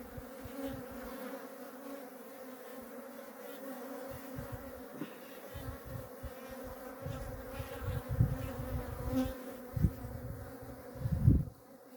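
Honey bees swarm in an opened hive with brood on every frame after a colony split, a steady close buzzing hum with individual bees droning louder as they pass near.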